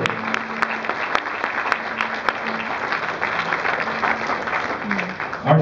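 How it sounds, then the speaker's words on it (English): Concert audience applauds at Marco Polo Plaza in Cebu before a piano concerto, a sustained round of many hands clapping with occasional sharper claps and faint voices underneath. "May we request for another round of applause then to officially welcome this unique genre into our musical venue"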